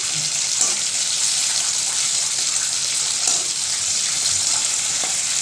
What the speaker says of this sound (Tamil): வெங்காயம் கருவேப்பிலை போட்டு நல்லா வதக்கிடுங்க